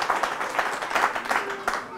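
A church congregation gives brief applause after a Gospel reading at Mass, a short burst of clapping in uneven waves, with a voice faintly audible.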